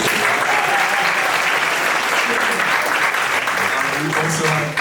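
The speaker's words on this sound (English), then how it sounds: "we can still clap for her" Audience applause at a university founder-talk event, a dense, steady clapping from a sizable crowd held loud and continuous throughout before tapering slightly at the very end.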